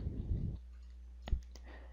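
Computer mouse double-click: two sharp, quick clicks close together against a faint steady hum, following a brief muffled sound at the start.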